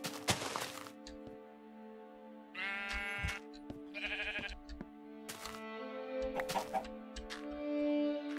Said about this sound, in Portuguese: Você, galinha preta do mal que botou um ovo na minha cama enquanto dormia